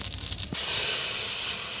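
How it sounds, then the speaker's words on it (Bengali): Water is poured into hot oil left from frying rupa patia fish, with tempering spices and dried red chillies, and it bursts into a loud, sustained sizzling hiss that holds steady after a short lead-in of quieter kitchen noise. "সেই মাছ ভাজা তেলে ফোড়ন আর শুকনো লঙ্কা দিয়ে জলটা দিয়ে দিব"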